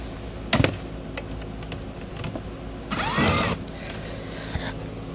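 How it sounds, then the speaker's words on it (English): An electric gun spins bolts out of the air filter cover on a Mercedes GLC, GLE or GLS, with one brief whirring burst amid scattered small clicks and taps of handling. "So you can just use an electric gun like what I'm using right here."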